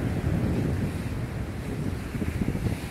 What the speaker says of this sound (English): Because I guess this is where the waves are breaking.